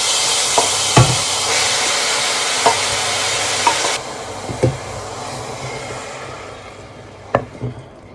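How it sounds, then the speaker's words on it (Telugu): Grated beetroot frying and being stirred in a pan, a steady sizzle with occasional sharp scrapes and clinks of the spoon against the pan, close up with no talk. "ఆ వేగిన తర్వాత నెక్స్ట్ ఇంకా డైరెక్ట్ గ్రేటెడ్ది బీట్రూట్ ఉంది కదా"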